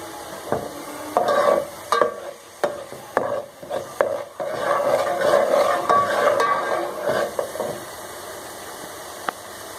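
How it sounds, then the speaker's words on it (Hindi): Ginger garlic paste fries in a pan while it is stirred, giving an irregular sizzle broken by scraping strokes, close and moderately loud. "हम इसको अच्छी तरह से भून लेंगे जब तक कि हमारे अदरक लहसुन में से खुशबू ना आने लगे।"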